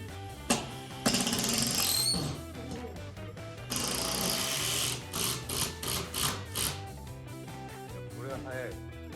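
An impact driver runs in loud, rattling bursts during an old country house renovation workshop, with some short, choppy pulses and people talking around it.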